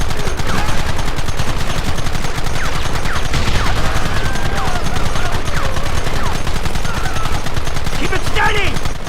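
Sustained gunfire crackles through a Red Dead Redemption shootout, dense rapid shots layered into a loud continuous volley with shouted voices mixed in.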